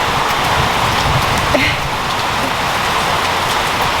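Rain falling on a farm makes a steady, dense hiss of drops hitting surfaces, close and constant for the whole stretch, with a faint brief knock partway through and no talking.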